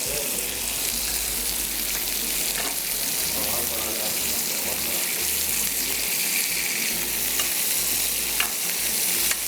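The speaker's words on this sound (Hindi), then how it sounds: "जब हम ग्रिल कर रहे होते हैं तो उस वक्त जब ये मसाला जलता है तो इसका एक अपना फ्लेवर आ रहा होता है" Masala sauce sizzles on mutton on a grill, a loud, continuous crackling hiss that stays close and even throughout.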